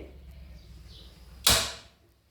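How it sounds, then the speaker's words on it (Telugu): A gas stove burner is lit in a home kitchen, giving one sharp click-and-whoosh of ignition that fades over about half a second after a quiet background hum, with no talking. "ఫస్ట్ మనము గ్యాస్ ముట్టించుకుందామండి"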